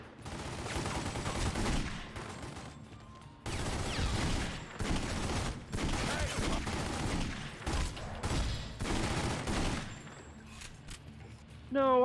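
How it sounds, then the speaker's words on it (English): Rapid bursts of gunfire from The Godfather video game crackle in long, dense volleys, broken by brief pauses between the barrages, with no talking. "Please stop shooting me."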